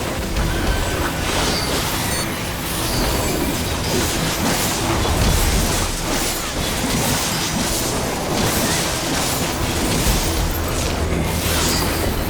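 Train in the video game Final Fantasy XIV, a loud, continuous rumbling roar with clattering rail noise and occasional heavy bangs, steady throughout.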